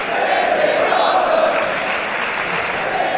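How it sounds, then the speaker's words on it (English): Steady applause and crowd noise from a wrestling audience at a WCPW tag title tournament match, a dense continuous wash of clapping that holds at an even level for the whole stretch. "The crowd showing their appreciation for all 4 of these guys."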